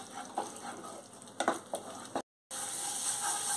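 Spice masala for doi katla fries in a pan with a soft sizzle and a few scraping stirs, then a brief gap before a louder, steady hiss returns, all quiet and close with no voices.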